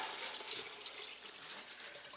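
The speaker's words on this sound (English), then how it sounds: "all we do is we just top that up with water up to the top there" Water poured into a jar of acorns, a continuous bright splashing stream filling the glass, close and steady throughout the short stretch with no talking.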